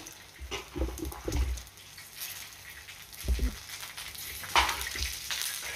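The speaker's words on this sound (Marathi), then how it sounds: "आता तेलावरती मी मिरच्या घालते। गॅसची फ्लेम मी मीडियमवर ठेवलेली आहे आणि त्यातच आपल्याला लसूणही घालायचा आहे।" Green chilies and garlic fry in oil in a pan over a medium gas flame, a soft sizzle with a few louder splutters and a stirring scrape, heard up close without speech.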